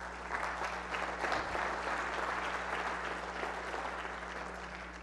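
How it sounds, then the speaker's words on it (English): A church congregation applauds during a sermon, a dense, even wash of many hands clapping that carries on for several seconds at a moderate distance. "I'm not just doing that to get applause"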